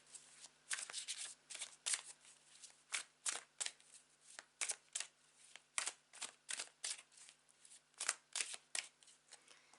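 A tarot card deck is shuffled close by, a quick run of crisp riffling bursts repeating in a steady rhythm against a quiet background.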